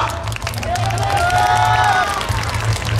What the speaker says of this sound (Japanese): のりこ京介たくさんの拍手をいただきました沿道の皆様に